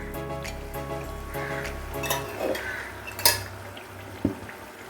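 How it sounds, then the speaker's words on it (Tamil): Citron pieces tipped into hot oil in a pan while making pickle, with soft metallic clinks of spoon and pan, light stirring scrapes and a faint sizzle, quiet and close. "இப்போ நம்ம நார்த்தங்காய் இதில் சேர்த்துக்கணும்."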